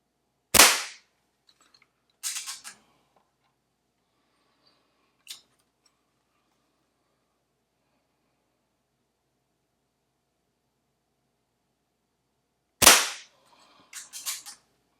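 A custom Crosman 2300S air pistol fires downrange. Two sharp, close pops are about twelve seconds apart, and each is followed by faint mechanical clicks of handling and re-cocking in otherwise quiet surroundings.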